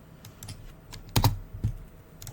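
A single spacebar press on a computer keyboard gives a sharp, close click, with a few lighter key taps around it in a quiet room.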